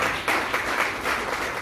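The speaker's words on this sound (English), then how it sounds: "Clap for yourself." An audience at a reading-camp launch event claps briefly in a dense, steady burst of applause indoors.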